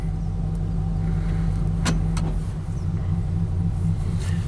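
A Chevrolet Equinox engine idling at about 550 RPM, a steady low rumbling drone heard close and alone with a few faint clicks.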